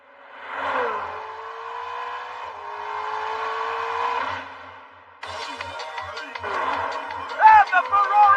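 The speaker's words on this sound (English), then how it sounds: "And the Ferrari takes off!" A Ferrari race car in an animated racing series accelerating hard, its engine whining as it climbs through the gears in a smooth rising roar, with a short gap before a second rising run, under excited commentary.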